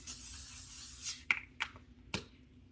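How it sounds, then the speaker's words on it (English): L'Oreal makeup setting spray is sprayed in a long hissing burst, followed by a few sharp clicks and short spritzes, close to the microphone, with no talk. "I'm going to use the L'Oreal. The setting spray is amazing."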